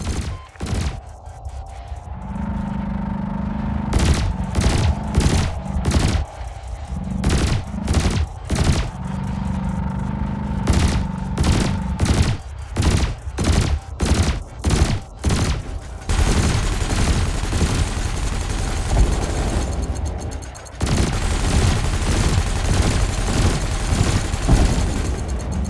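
Spaceship cannons and lasers fire in Elite Dangerous: dense, rapid bursts of heavy shots and booms rattle on, pause briefly, then give way to a continuous roaring stream of fire, loud and close.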